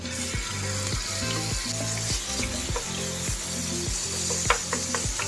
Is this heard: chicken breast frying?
yes